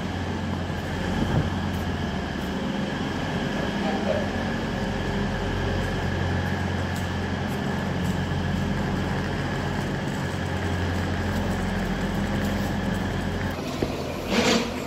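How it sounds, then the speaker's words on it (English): A Nottingham tram rolling past on the street, a steady loud rumble with humming motor tones that holds evenly throughout, close to the listener. "Okay, there goes the tram."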